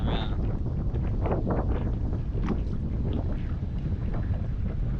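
High wind buffets the microphone on a bass fishing boat, a constant rough low roar with scattered gusty bursts and faint knocks throughout.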